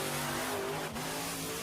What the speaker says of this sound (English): Tough truck racing.